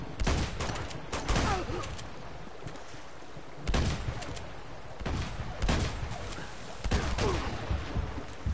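Repeated bursts of gunfire from the video game Uncharted 2: Among Thieves, volleys of shots arriving in clusters across the whole stretch, loud and close with a busy background between them.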